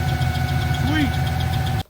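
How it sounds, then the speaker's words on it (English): A car engine idles steadily right after a carburetor repair, a low, even rumble with a faint knocking rhythm that runs for under two seconds before cutting off abruptly. "Because we're idling good now"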